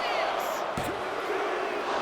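A rowdy Detroit wrestling arena crowd in the video game WWE 2K25 roars steadily as a broad, constant wash, with a single thud partway through and commentary talk over it.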